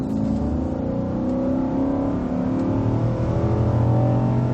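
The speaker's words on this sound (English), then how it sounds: "So I'm going to get on the throttle here," A 2016 Infiniti QX80 SUV accelerates onto a freeway, its engine rising in a steady rev under a constant whirring road drone, heard from inside the cabin.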